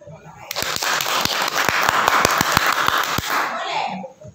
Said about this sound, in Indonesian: Tepuk tangan untuk Pak Tais.